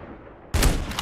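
LW3 Tundra sniper rifle firing in the mobile game COD Mobile: one sudden loud shot after quiet, with a sustained bright ringing tail that stays strong to the end.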